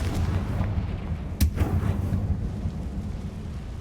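A Confringo fire spell goes off in the Hogwarts Legacy video game with a single sharp explosive crack, then a rumbling boom that fades under a low continuous roar.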